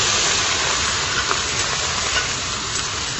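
Freshly grated onion puree hitting hot oil in a pan for a prawn curry, a steady, even sizzle and hiss running throughout with no talking.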